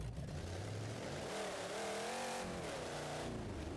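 A 1043-horsepower car engine in BeamNG.drive revving hard, its pitch climbing and wavering at high RPM, steady and close with a loud, continuous roar and no talking.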